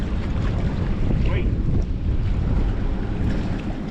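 Steady wind buffets the microphone on the open Mississippi River during catfish fishing from a boat, a loud continuous rumble with gusts and faint water movement throughout.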